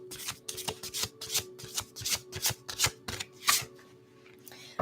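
Tarot cards from a Psychic Tarot deck being shuffled by hand, a quiet series of about a dozen soft riffling swishes in an irregular rhythm, close to the microphone, with a steady low hum beneath and no talking.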